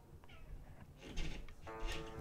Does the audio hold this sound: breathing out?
no